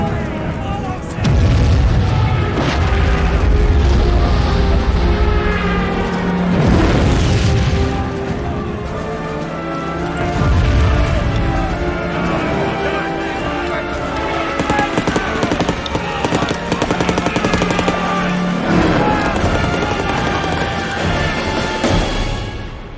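Rifle gunfire and explosions ring out in a war film battle, with heavy booms and rolling blasts across the scene and a voice shouting orders over the loud, dense combat.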